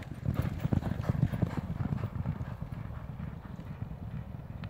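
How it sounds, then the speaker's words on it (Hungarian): Horse hoofbeats, a steady, rapid clip-clop of hooves that carries on throughout, fairly close and clear, with no one speaking. "Nem a levegő miatt, hanem a patadobogását."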